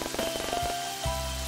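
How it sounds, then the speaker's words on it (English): Pouring rain patters on surfaces in a continuous dense hiss, mixed with a faint tonal hum and low thumps, brief and fairly quiet. "pouring rain and forcing everyone in the air to find cover"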